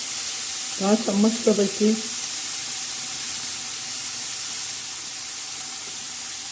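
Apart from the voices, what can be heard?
washed broad bean pods added to hot pan, sizzling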